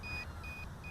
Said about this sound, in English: oh, it's beeping at me